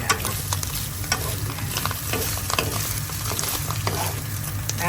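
Tofu fries in oil in a pan, a steady crackling sizzle with occasional stirring scrapes, close and continuous without any talk.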